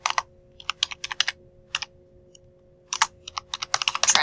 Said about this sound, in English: So over here, I'm going to type